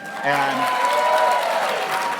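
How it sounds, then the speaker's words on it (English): Audience applause at a Red State political gathering, a dense steady wash of clapping filling the room throughout, with a voice briefly heard near the start. "that was not a cheap way to get applause at the Red State gathering"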